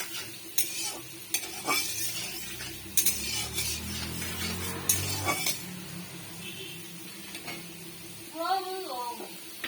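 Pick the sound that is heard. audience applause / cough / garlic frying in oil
garlic frying in oil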